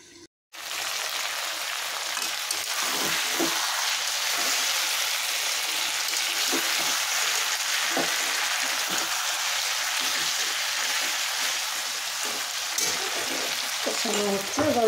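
Country chicken pieces stir-fry in a hot pan, giving off a steady, dense sizzle and crackle that holds for the whole stretch, with scattered scraping stirs close by.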